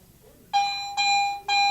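Three bright electronic dings in quick succession, the first two close together and the third after a short gap, clear and steady over quiet background, from a Garrett AT Pro metal detector in standard mode.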